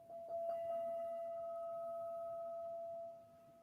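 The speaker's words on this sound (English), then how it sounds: "I will be ringing a bell." A meditation bell is struck once and rings with a clear, pure sustained tone that slowly fades over a few seconds in a quiet room, alone without talk.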